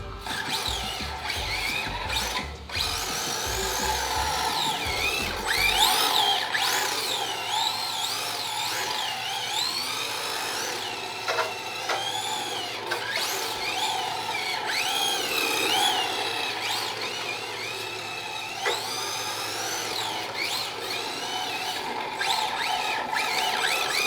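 A Team Associated DC10 RC drift car driving on polished indoor hallway concrete, its electric motor whining and shifting pitch continuously as it accelerates and slides, close and steady.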